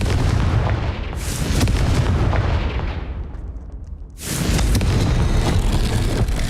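Confringo fire blast spell in the Hogwarts Legacy video game produces two loud, close explosive bursts with a roaring tail. A short lull separates them.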